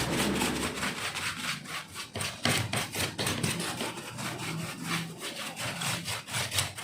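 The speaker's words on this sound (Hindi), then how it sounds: "अभी इसको हम कर लेते हैं ब्रश की मदद से यहाँ से साफ़" A brush scrubs dust and fungus from inside an HP 1000 laptop during a repair, giving a steady dry rasping, scraping sound in repeated close strokes with no talking.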